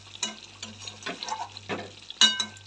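A spatula stirs hilsa fish frying in a kadai, with several scraping, sizzling strokes at irregular intervals over a low steady hum, close and clear, no talking.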